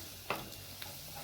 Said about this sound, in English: Let's fry them a little longer.